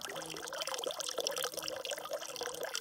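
Water runs steadily from a spring-fed water source right beside a hiking trail on the Long Trail, a continuous trickling and splashing at close range with no talk.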